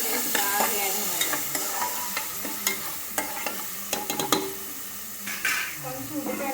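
Onions fry in a pan for a paneer curry, the steady sizzle broken by repeated sharp scrapes and taps of a spoon stirring them, with a voice talking now and then over the cooking.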